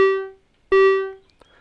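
Korg Volca Modular synthesizer patch shaped by an envelope with a hold stage: two separate sustained buzzy tones, each struck sharply and fading out over about half a second, with a faint blip after.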